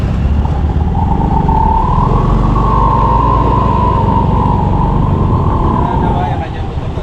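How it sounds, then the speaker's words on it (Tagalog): A truck engine fitted with a modified exhaust rumbles loud and steady at close range for the whole stretch, a deep continuous drone that eases off only at the very end. "Ang gara ng tunog ng truck. Tambutso yun."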